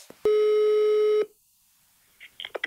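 A German telephone line ringing while a call is placed: a single steady, loud ringback tone lasting about a second, followed by silence and a few faint clicks.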